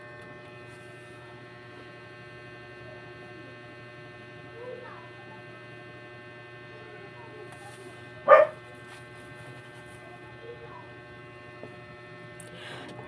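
A single short, sharp dog bark rings out midway over a constant electrical hum, with a fainter yelp earlier; otherwise quiet room.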